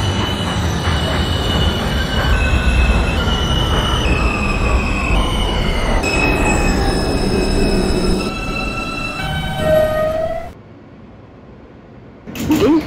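An R160B Alstom subway car in the OpenBVE simulator runs loud and steady on the E line, rail squeal and motor whine sliding downward as it brakes, then a near-silent pause before a door chime.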